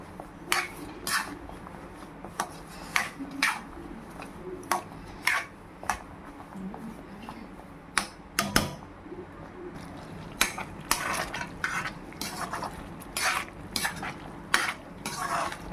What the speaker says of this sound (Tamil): இப்போ கலந்து கொடுக்கலாம்